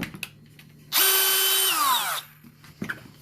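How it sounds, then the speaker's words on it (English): A power drill whirs steadily for about a second and a half, loud and close, then winds down, with faint clicks and handling noise before and after. "Let me even put a drill on it here."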